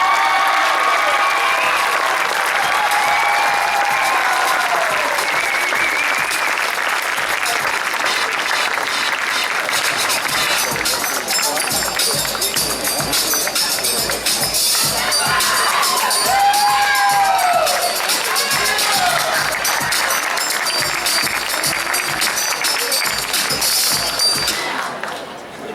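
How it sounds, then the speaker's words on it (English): Sustained applause and cheering from a crowd at a school varsity sports awards ceremony honoring the female athlete of the year, steady clapping with whoops and shouts throughout the clip. "Let's have a big round of applause for the female athlete of the year, Miss Kipper Reback."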